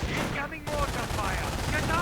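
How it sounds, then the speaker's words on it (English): Mortar and MG-42 machine gun fire crackle in a World War II strategy video game, bursts of rapid shots over battlefield din, with a voice talking over them. "mortar still firing away"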